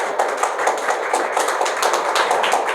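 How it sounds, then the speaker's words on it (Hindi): Audience at an anti-addiction honour ceremony claps steadily, a dense stream of sharp hand claps from a nearby crowd with no voices over it. "जोरदार तालियां हो जाएं दोस्तों।"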